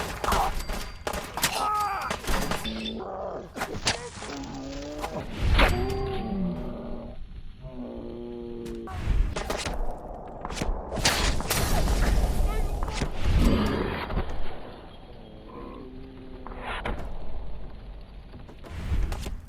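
Gunfire in a firefight in the video game Fallout 4, with bursts of sharp shots mixed with growls, shouts and other game sounds, heard under frequent talking.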